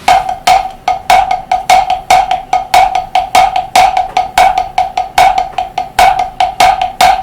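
Drum accent pattern played on a single pitched drum, a steady run of crisp strokes in which louder accented hits stand out over softer taps, close and alone with no talking.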